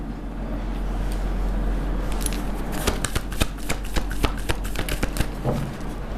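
Tarot cards are shuffled and drawn by hand at close range: a soft, continuous riffle followed by a run of sharp, irregular snaps and flicks, with no talking.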